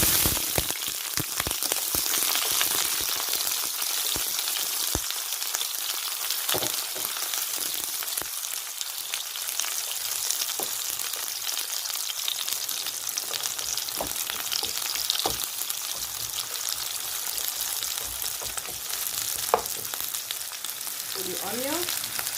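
Chopped onion frying in a hot pan for pasta gives a steady, close, dense sizzle that holds for the whole stretch, with a few faint clicks and knocks on top and no talking.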